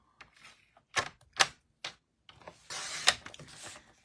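Cardstock being cut at four inches with a paper trimmer, a few short clicks and slides followed by a longer scraping cut, close and quiet, no talk.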